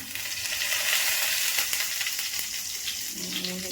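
Bay leaves hit hot oil in a pan for a Bengali prawn and bottle gourd curry, giving a loud, dense, continuous sizzle with faint crackles and a light clink near the end.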